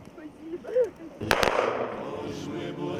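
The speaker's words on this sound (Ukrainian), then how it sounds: "Три постріли почесної варти сповістили всім, що тут навіки спочив герой" Honor guard firing a gun salute at a funeral in Ukraine, heard as two sharp, loud shots in quick succession followed by a lingering outdoor echo, with a faint voice just before.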